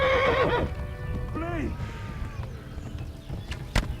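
A horse neighs loudly at the start in Kingdom Come Deliverance, followed by quieter game sounds and a few sharp knocks, with someone talking faintly underneath.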